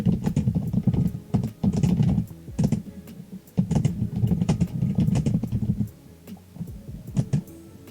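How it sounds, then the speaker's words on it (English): Loud computer keyboard typing in bursts of rapid clacking keystrokes, close to the mic, with brief pauses between runs and no talk. "I'm sorry, my keyboard's so loud."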